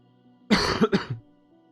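A man with a heavy cold gives a single close cough with a couple of quick throaty bursts, alone against a quiet room.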